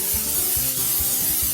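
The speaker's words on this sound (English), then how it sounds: "Now I'm going to go ahead and spray it." Steady hissing of cooking spray sprayed into a pan preheating on medium runs throughout, with faint low knocks and rattles underneath; close and continuous, no voices.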